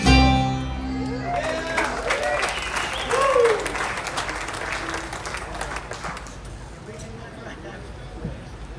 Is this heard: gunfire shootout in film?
no